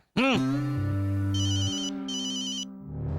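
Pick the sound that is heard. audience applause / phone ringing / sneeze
phone ringing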